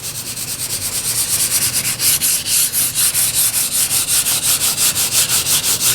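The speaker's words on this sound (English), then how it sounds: "take your sandpaper and just really, really gently" Sandpaper rubbed very gently over a leather finish in a steady back-and-forth rhythm, each stroke a close, even scratchy swish repeating about every quarter second.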